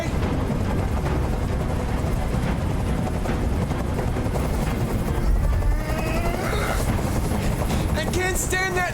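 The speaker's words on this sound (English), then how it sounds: "Tell that helicopter to get out of here!" A helicopter hovers loud and near in the video game Detroit: Become Human, its rotor roar and thumping steady throughout, with voices speaking over it and brief sharp noises near the end.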